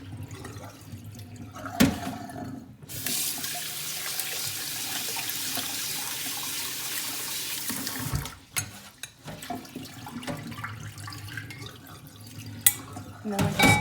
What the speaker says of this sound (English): Just like we rinse the lentils. Maybe do that a couple of times.